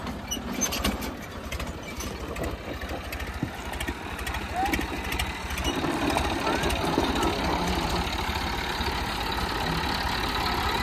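A Hero HF Deluxe motorcycle engine runs steadily at a low, even throttle, close by. Its continuous rumble rises slightly partway through, with voices talking over it.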